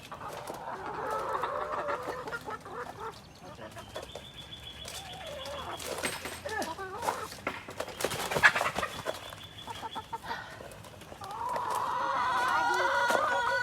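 Backyard chickens cluck and murmur close by in a chicken yard, with repeated bursts of clucking and squawks over a low background.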